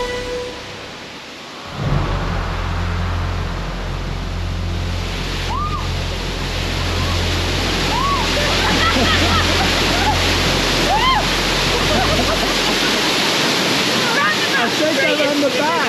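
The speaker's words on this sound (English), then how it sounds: "I am fairly confident the top of the waterfall is just over here" A powerful waterfall in the Grenadines roars continuously from close by, a thick low rumble with broad spray hiss, under scattered speech.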